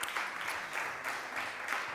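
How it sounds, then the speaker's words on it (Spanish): Modest audience applause at a roundtable panel discussion on talent selection, quiet clapping that comes in a few rhythmic surges, fairly soft and distant. "Vamos a ir dándoles unos aplausos."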